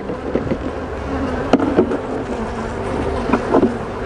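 Honey bees hum and buzz steadily inside an opened hive during a warm-weather colony check, with a few louder close passes and light handling clatter.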